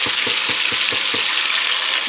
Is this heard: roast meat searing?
yes